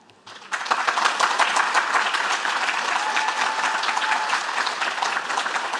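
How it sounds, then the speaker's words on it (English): Graduates at a New Zealand graduation ceremony give their supporters a round of applause: dense, sustained clapping from a large crowd that starts abruptly and holds steady, filling the room. "I wonder if I might ask the graduates to give your supporters a clap."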